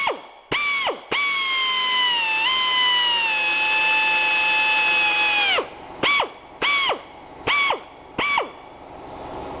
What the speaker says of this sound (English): We want to just kind of work our drill bit back and forth